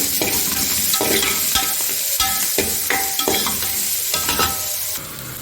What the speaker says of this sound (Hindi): उसके साथ जाएगा हमारा प्याज। प्याज जो है ना वो थोड़े से सॉफ्ट करने हैं, बस ज़्यादा नहीं पकाना इनको।